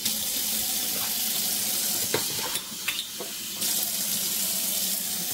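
Household tap water runs into a container, a steady close hiss of flowing water with a few brief clinks and a momentary dip in the stream partway through.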